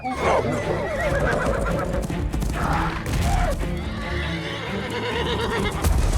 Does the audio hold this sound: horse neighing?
yes